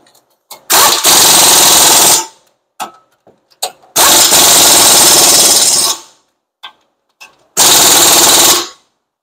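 A power tool tightens bolts on the front brakes of a Hyundai Sonata in three loud, sustained bursts of rattling impact, separated by short blips and pauses.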